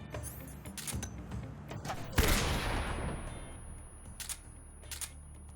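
Gunfire from the Ocelot boss fight in Metal Gear Solid 3, with a sharp burst of shots followed by a long ringing decay and scattered smaller reports, fairly loud against quieter game ambience.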